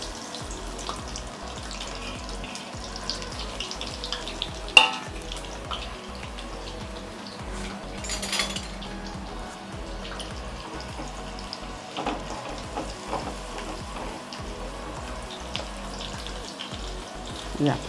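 Sliced onion sizzling steadily in hot oil for a pulao tempering, a continuous hiss with occasional sharper pops and clinks, no talking.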